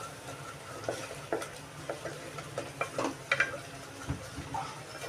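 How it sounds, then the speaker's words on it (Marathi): Onions fry quietly in a pan, a soft sizzle broken by scraping stirs and a few light clinks of a utensil. "हा कांदा लाल होईपर्यंत आपल्याला तळायचा आहे"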